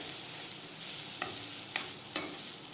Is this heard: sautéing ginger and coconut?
yes